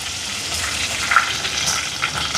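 Fenugreek seeds and curry leaves dropped into hot oil for a Jaffna stingray curry, giving a steady close hiss of sizzling with faint crackles, no talking over it.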